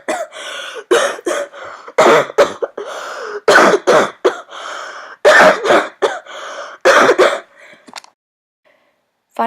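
A woman coughs and gags in violent repeated bursts after choking on vacuum-bag dirt and dust, the harsh fits coming close and loud one after another with brief gasping gaps before trailing off.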